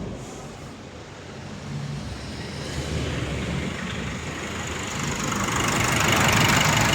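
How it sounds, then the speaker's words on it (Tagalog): A 2020 Nissan Terra engine idles evenly at close range, a continuous steady drone that swells slightly toward the end, with no talking. "So kung makita nyo, normal na normal yung andar ng makina."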